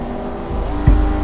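Race car engines roar continuously in a historic 1959 Indianapolis 500 Formula One racing video game, a steady dense engine drone with a brief louder burst near the end, no talking.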